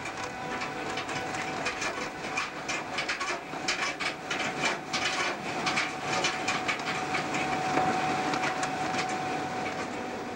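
Algoma Central snow train hauled by three GP38-2 diesel locomotives totalling 6,000 horsepower through snowy wilderness near Lake Superior, a steady rumbling roar with faint clatter, continuous and moderately distant.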